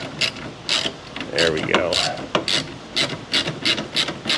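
Bolt being threaded by hand into a threaded hole on a large truck fuel tank build, a series of quick clicking, rubbing metal turns in an uneven rhythm, with someone speaking briefly.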